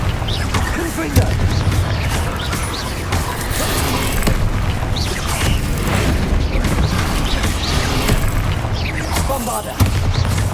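The Confringo fire spell goes off in the Hogwarts Legacy video game during a battle, with dense booming blasts and crackling bursts over a constant loud rumble and a voice speaking over it.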